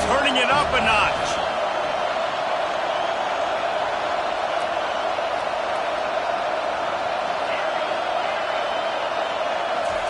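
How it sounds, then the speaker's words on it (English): A college football stadium crowd at a West Virginia vs USC game roars steadily, a dense, loud wash of cheering that holds without a break. "this crowd is turning it up a notch"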